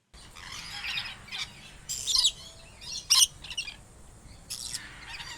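A bird chirps and squawks in several sharp bursts spread across a few seconds, loud and close, with soft background hiss between calls.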